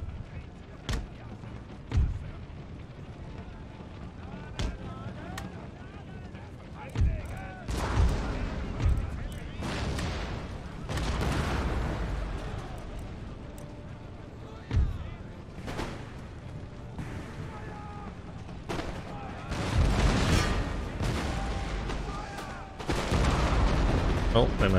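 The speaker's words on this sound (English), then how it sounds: "my mortars fire here" Mortars and cannons firing in Empire: Total War, heavy booms and sharp reports spaced irregularly over a rumbling battlefield din, some near and loud, others distant, with a person talking over the fighting.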